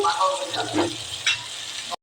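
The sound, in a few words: onions sizzling in oil in a wok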